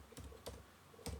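A few quick, light keystrokes on a computer keyboard while typing a website address, close and quiet in a still room, with three small clusters of clicks.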